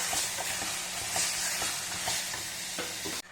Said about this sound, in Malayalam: ഇനി അതിനകത്തോട്ട് നമുക്ക് ഇറച്ചി ഇട്ട് കൊടുക്കാം ഇനി ഇനി നമുക്ക് അതിനകത്തോട്ട് നല്ലോണൊക്കെ മിക്സ് ചെയ്ത് കൊടുക്കാം